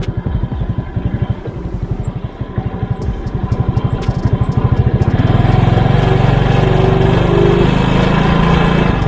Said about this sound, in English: We just need to raise the idle a little bit more.